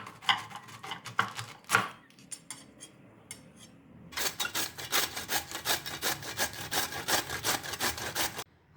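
A small washed cabbage, about 380 grams, is rubbed against a grater in quick, rhythmic rasping strokes, close and clear. A few scattered strokes start it, then after a short pause a long steady run follows with no speech.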